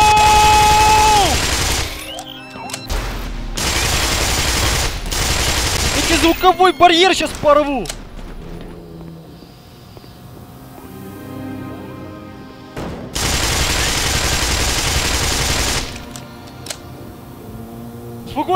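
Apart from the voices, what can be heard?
gunfire in video game Black Mesa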